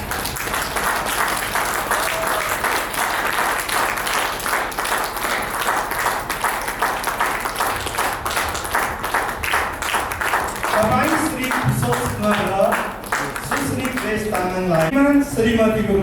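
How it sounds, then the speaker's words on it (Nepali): Sustained, loud applause breaks out at a Nepali Christian wedding ceremony as a couple is pronounced husband and wife; dense clapping fills the room, then thins as voices start to come through near the end. "हामी ताली बजाउनुहोस्"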